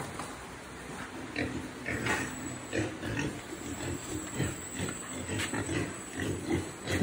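Several Ca Mau breed pigs grunt and oink in a pen, continuous nearby snorting and squealing with little talk.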